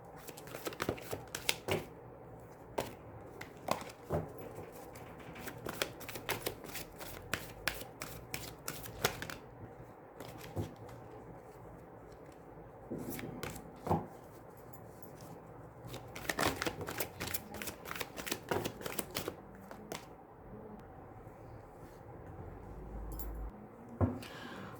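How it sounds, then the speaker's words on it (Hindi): Oracle cards are shuffled and drawn up close, giving quick bursts of crisp riffling and flicking in irregular runs separated by short pauses, with faint background speech. "तो हम एनर्जी ऑरिकल से यहाँ पर कुछ कार्ड्स लेते हैं।"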